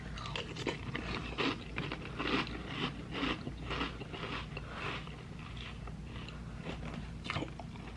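Oatmeal cream pie cereal is crunched close up in a steady series of crisp chewing bursts, repeating roughly every half second with no talking.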